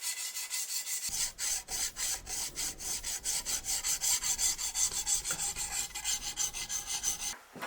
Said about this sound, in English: it's not that easy to sharpen a Scandi Grind